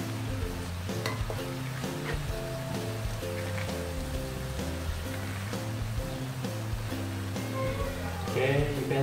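Vegetables stir-fried in a pan for a Khmer fried dish, with a steady sizzle and frequent stirring scrapes running throughout, set against a bed of background music.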